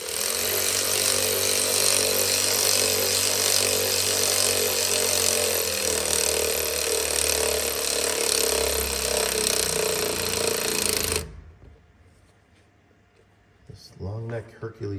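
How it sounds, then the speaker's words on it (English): A Hercules long-neck cordless ratchet runs on hose clamps of a Detroit Diesel 8V92TA engine, whirring loudly and continuously for about eleven seconds before stopping abruptly, followed by near silence and some brief talk. "This long neck Hercules cordless ratchet is awesome for hose clampers."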